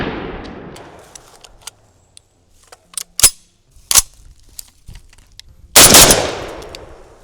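A Derya DY12Y shotgun fires Monarch double-aught buckshot on an outdoor range, with three sharp, loud blasts spaced over several seconds, the last one booming with a long decaying rumble and faint clicks between shots.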